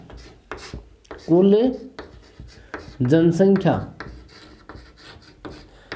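Chalk or marker scratching out a population-density formula on a classroom board, short scraping strokes between a teacher's spoken explanation.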